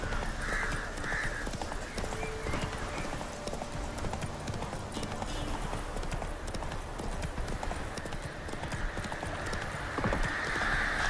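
Horse galloping in The Witcher 3 video game, with fast hoofbeats buried in a dense, steady wash of ambient game sound.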